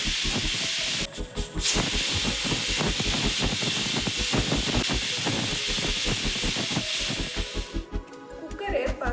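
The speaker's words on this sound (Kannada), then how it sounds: "ಕುಕ್ಕರ್ ಏರ್ ಪಾಸ್ ಆಗಿದೆ." Pressure cooker releasing steam while cooking a sambar of sprouted mixed grams: a loud, steady hiss runs for about eight seconds, then cuts off, with a rhythmic low thumping beat underneath throughout.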